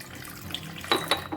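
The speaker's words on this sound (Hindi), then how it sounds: "इसमें डालते हैं थोड़ा सा पानी" Water is poured into flour and salt to make momo dough, giving a few faint splashy gurgles and brief sloshes near the end of a quiet, short moment.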